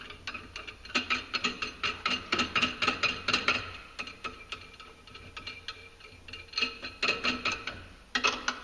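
A tool tightening the primary clutch onto the crankshaft of a Polaris RZR during an EPI Performance clutch kit install, heard as rapid, close ratcheting clicks in repeated bursts with brief pauses between runs.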